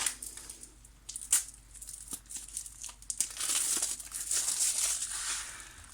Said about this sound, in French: Je vais juste couper ici un petit peu le plastique.